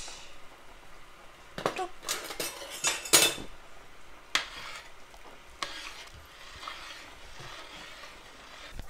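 A spoon stirs meatless harira soup in a pot, giving irregular clinks and scrapes against the metal, clustered loudest near the middle, with quiet simmering in between.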